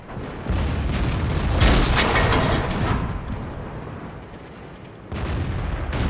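A tank gun in a video game fires one heavy shot that booms and rolls off slowly over several seconds. A second burst of noise follows near the end.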